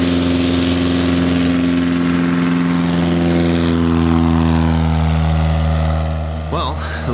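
A Piper Cub bush plane's engine and propeller drone close and loud with a steady, heavy throb that holds level throughout, fading slightly near the end.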